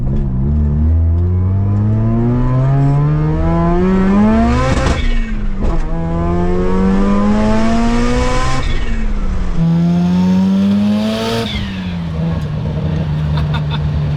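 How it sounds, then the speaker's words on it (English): A twin turbo Mazda RX-7 FC with a 13B rotary engine revs hard through rising pulls. Sharp, breathy blow-off and wastegate bursts cut in between them, loud and close, with the buzzy engine note dominating throughout. "That is the most different sounding blow off and wastegate I've ever heard."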